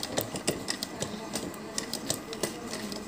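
A sewing machine stitching with a faulty lower thread that keeps jamming, giving a steady rapid mechanical clatter with regular needle ticks, close and moderately loud, with no talking over it.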